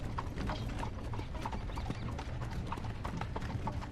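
Horse hooves clip-clop in a film soundtrack, a dense, steady rhythm of hoof strikes from one or more horses, moderately loud and continuous throughout.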